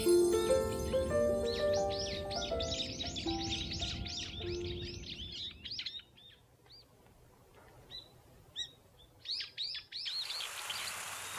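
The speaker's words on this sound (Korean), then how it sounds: "활기찬 새소리에" Lively songbirds call on a mountain morning in rural Hongcheon, Gangwon, with rapid chirps and trills close by, thinning to scattered tweets, while a brief splash of water rises near the end.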